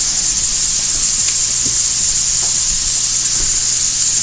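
Vegetables sautéing in a pan for chicken and vegetable soup give a steady, even sizzle and hiss, constant and fairly loud throughout with faint clinks beneath, and no talking.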